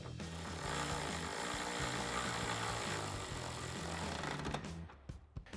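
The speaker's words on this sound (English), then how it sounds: "Tighten that down with a 13mm socket." Power tool driving a 13mm socket to tighten a bolt on a 2024-2026 Mustang GT, a close, steady buzzing whir for several seconds that ends in a few short clicks.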